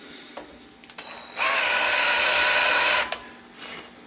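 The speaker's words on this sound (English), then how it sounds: "So the next step will be to countersink this slightly." Power drill countersinking a touch hole liner for a gun barrel: a few light taps, then a close, steady high whir lasting under two seconds that stops abruptly, followed by a short tail of tool noise.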